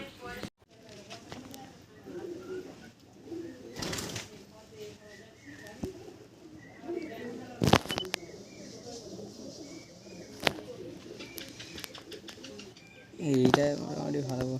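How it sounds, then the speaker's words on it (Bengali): Two Sylheti pigeons coo softly in low, repeated murmurs, fairly faint and close, while a person talks over them, with a few sharp knocks and rustles along the way. "দুটো সিলেটি পায়রা আপনারা তো দেখা পাচ্ছেন।"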